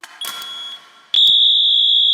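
A Simplex T-bar fire alarm in a bank sounds in continuous mode, first a quieter tone with clicks, then a loud, steady high-pitched electronic tone that holds without break, close and alone.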